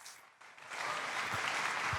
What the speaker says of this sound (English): Let's give Matt a round of applause